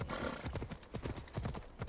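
Rapid clip-clop of horse hooves on hard ground in Assassin's Creed Odyssey, a fast steady gallop rhythm, fairly close and continuous.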